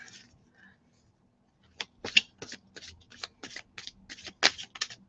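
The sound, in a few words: shuffling a tarot card deck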